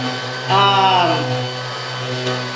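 Ridgid Gen5x 18V cordless 5-inch random orbital sander with variable speed, a steady close motor whine that swells briefly as the speed shifts, then settles into an even hum.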